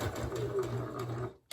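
A sewing machine back stitches across a three-layer fabric mask in one brief, close, steady burst of whirring that stops abruptly at the end.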